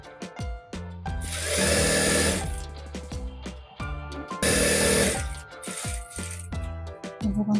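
Sewing machine stitching the front and side seams of a safari collar garment, running in two loud sustained bursts with a steady mechanical whir and brief pauses between, no talking.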